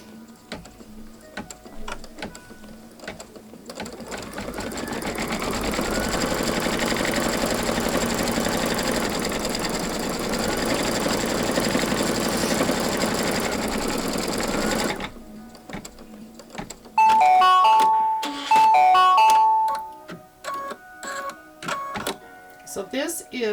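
An embroidery machine sews a placement stitch for a bunny pillow wrap with a close, continuous rapid whirr and rattle lasting around ten seconds, then stops, leaving a series of short beeps and handling clicks.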